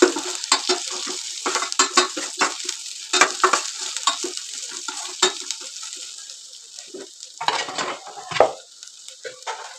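Chopped onions sizzle gently in a pan while a spoon stirs them at intervals, producing repeated scraping clinks against the metal over a soft, steady frying hiss.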